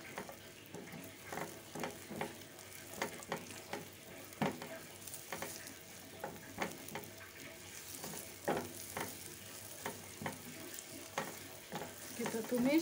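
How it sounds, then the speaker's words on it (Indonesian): Sliced spice paste stir-frying in hot oil for a green bean and shrimp dish, with a constant sizzle and repeated scraping strokes of the stirring spatula, close and steady. "Kita tumis sampai dia layu dan wangi."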